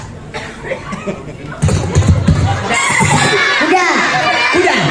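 A voice mimics a horse neighing during a comic sermon for a Maulid Nabi gathering, following speech and audience chatter, with wavering whinny-like calls sustained to the end.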